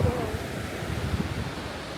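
Wind and ocean waves at the back of a cruise ship, Harmony of the Seas, blend into a steady rushing wash with buffeting gusts.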